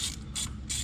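A ratchet clicks in three quick bursts while loosening a 10mm ground bolt in the engine bay of a 2005-2019 Nissan Frontier 4.0L, a close, crisp pawl chatter.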